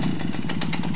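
A Romet motorcycle engine runs steadily at idle on a first ride, a loud close mid-pitched putter with even rapid firing pulses and no voices.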